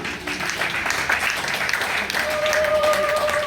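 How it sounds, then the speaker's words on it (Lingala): A crowd at a women's prayer morning in Kinshasa keeps up warm, dense applause. The clapping is moderately close and runs without a break for several seconds, with a faint tone sounding near the end. "Encore des applaudissements pour clôturer"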